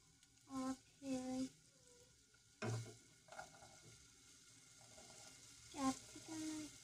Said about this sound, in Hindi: पेस्ट हल्का सा चला लेंगे